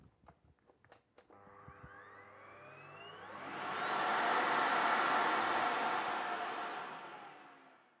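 A Samsung SC8833 cyclonic vacuum cleaner spins up from a few clicks into a loud, steady whooshing roar that swells and holds near the microphone.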